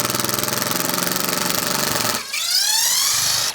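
A Ryobi ONE+ HP cordless driver in auto mode backs out fasteners, loud and close, with a rapid steady hammering rattle for about two seconds, then a rising whine of the free-spinning motor before cutting off.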